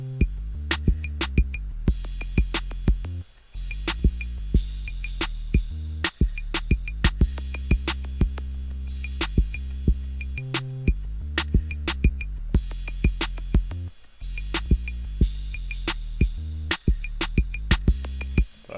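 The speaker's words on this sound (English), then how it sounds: "That's all the drums together." A full Detroit-style hip-hop drum beat plays steadily, with punchy kicks, snappy hits and crisp cymbals in a repeating rhythmic pattern, loud and up front.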